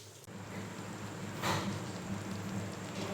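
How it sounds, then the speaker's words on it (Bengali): Warm water poured into a pan of chicken chana masala gives a steady, rain-like splashing and hiss that swells briefly midway and then carries on evenly to the end. "চিকেনের মধ্যে চানাটা মেশানোর পরে অল্প একটু জল দিয়ে দেবো, উষ্ণ গরম জল"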